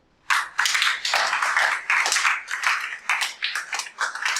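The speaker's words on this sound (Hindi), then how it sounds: "तालियां हो जाएं।" Students in a chemistry classroom break into a burst of close, crisp applause that starts abruptly and continues in uneven waves of clapping for about four seconds.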